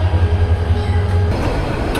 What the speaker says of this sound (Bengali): আমাদের ট্রেন ছেড়ে গেল